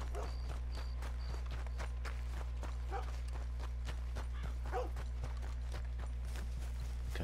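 Horse hooves clip-clop in Red Dead Redemption 2, a steady walking rhythm of close, moderate hoofbeats over a constant low game hum, with faint chirping ambience.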